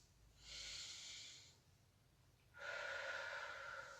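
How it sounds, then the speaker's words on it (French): Two slow, deep breaths taken close by during a yoga session relaxation, each a soft airy rush lasting about a second, separated by a brief quiet pause. "Nous inspirons 1 ou 2 fois profondément"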